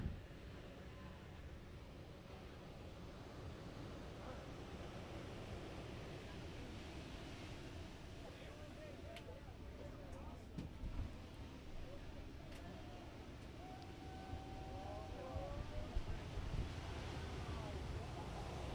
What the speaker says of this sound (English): Look at these waves rolling in.